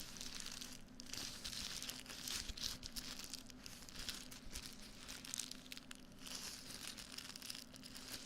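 Close, soft crinkling for ASMR, a continuous quiet rustle of crumpled material with small crackling peaks and no pauses.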